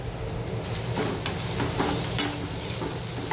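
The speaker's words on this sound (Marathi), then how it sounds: "टोमॅटो घातल्याच्या नंतर तेही सगळं परतून घ्यायचं" Tomatoes salted in a pan for bhindi bhaji sauté with a soft, steady sizzle, punctuated by a few light stirring scrapes, close up and with nobody talking.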